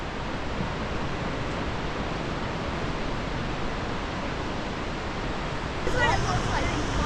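A Yosemite waterfall roars in a constant, dense rush of noise, with a slightly louder surge near the end.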